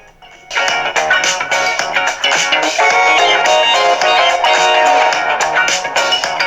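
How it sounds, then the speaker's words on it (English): Music playing through the small onboard speaker of a Home Assistant Voice Preview Edition, busy and midrange-heavy, steady and fairly loud after a quiet start, with no talking over it. "And so the Home Assistant voice kind of sounds like this at the same low, medium, and high range that we saw earlier."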